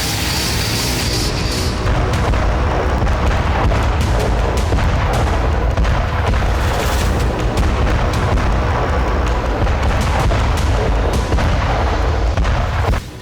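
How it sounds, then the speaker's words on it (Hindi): MLRS rocket artillery firing in a Russian barrage on Ukrainian positions; loud, continuous rumbling roar with overlapping booms and blasts, dense and unbroken throughout. "MLRS से जबरदस्त गोलीबारी की गई।"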